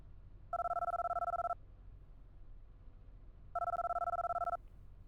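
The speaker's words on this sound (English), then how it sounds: "let me just make a phone call a second." An outgoing phone call rings in Farming Simulator 25: two evenly spaced, trilling ringback tones about a second long each, clear against a quiet background with no talking.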